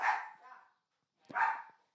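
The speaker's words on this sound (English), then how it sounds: "comment below if you can hear the dog barking" A dog gives two short, sharp barks about a second apart, moderately close and with nothing else audible around them.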